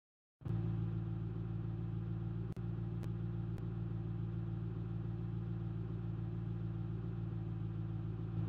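A car engine that had failed under cylinder pressure while towing now runs again after repair, starting abruptly and settling into a steady, loud, close idle rumble with a few faint clicks over it.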